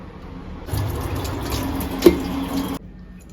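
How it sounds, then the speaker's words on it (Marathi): Tap water streams over cubed vegetables in a kitchen for about two seconds, a close, steady rushing splash with one brief louder knock, and quiet before and after. "आता थोडे पाण्यातून वॉश करेन मी."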